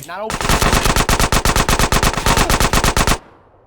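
Rapid automatic gunfire in a GTA San Andreas Definitive Edition gang shootout, a loud, steady burst of around twenty-five evenly spaced shots lasting about three seconds before stopping abruptly.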